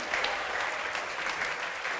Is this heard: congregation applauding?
yes